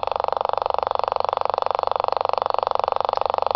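A homemade motor runs steadily in a continuous, rapidly pulsing mechanical buzz with a faint creaking texture, holding an even level throughout with no voices.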